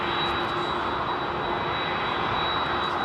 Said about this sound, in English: United 767-400, it's quite a rare beast here at Heathrow. Normally the 767-300. Anyway, listen to these engines.